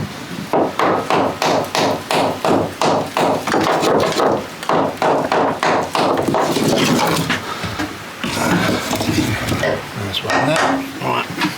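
A hammer strikes old wood studded with nails in a cottage renovation, a rapid, steady run of sharp knocks close up, pausing briefly before resuming, with a voice speaking at times.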